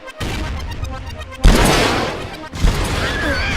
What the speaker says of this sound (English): I wanted the weapons to feel real, so of course they would need to sound real.